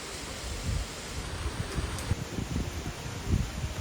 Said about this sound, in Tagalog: Maulan at medyo malakas ang hangin.